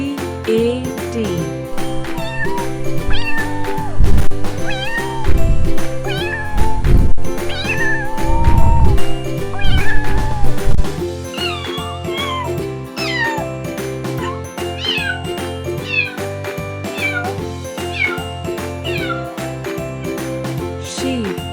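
A cat meows repeatedly over a background of light music with tinkling chimes, with the loudest cries clustered in the first half and fainter ones after.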